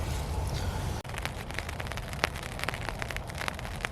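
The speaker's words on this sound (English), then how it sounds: "you can hear the rain coming down on the tarp now" Rain falling on a camping tarp during winter, a dense, even patter of drops that continues throughout, close and fairly loud, with no voices.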